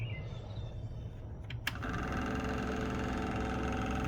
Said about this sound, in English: I've got my Dremel turned down low.